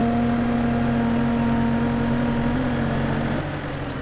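A tractor engine in a farming simulator game runs at a steady idle with a constant, buzzing mechanical drone and slight pitch waver, loud and even throughout, no voices.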